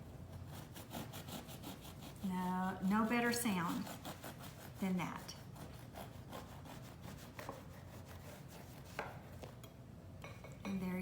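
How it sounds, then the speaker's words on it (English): A knife saws through the crisp crust of homemade white bread with rough, rhythmic rasping strokes, close and clear, while a person talks over parts of the cutting. "when you cut down into it, you want to be able to hear that crust cutting"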